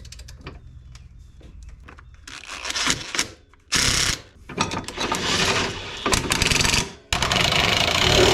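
Rapid mechanical ratcheting from a hand wrench tightening bolts on a Nissan 300ZX project car, coming in loud close bursts separated by short pauses, with no talking.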